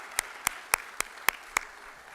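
Six distinct, evenly spaced claps at a school spring play, sharp and close, standing alone against a quiet background.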